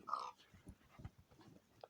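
Dog sounds inside a Minecraft survival game: a brief yelp-like call at the start, then faint, scattered soft thumps and whimpers at low level with no speech.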